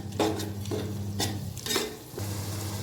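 Fenugreek leaves stir-fry in a pan, with a steady sizzle under repeated scraping strokes of a spoon, several distinct stirs spaced about half a second apart, close and moderately quiet.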